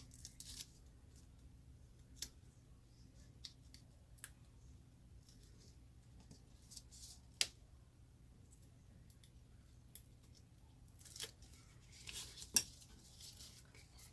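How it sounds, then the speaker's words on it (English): Adhesive backing is peeled off a paper box piece in a quiet room, giving soft scattered crackles and several sharp brief snaps spread across the stretch, close-up and faint. "when removing the backing, I start with the center"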